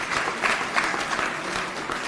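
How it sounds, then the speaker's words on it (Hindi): Audience applause breaks out for a foundation funding a skill training centre at Matia Mahal, Delhi, a dense steady clapping from a crowd that lasts about two seconds without fading. "तो एक बार उनके लिए तालियां बजा दीजिए"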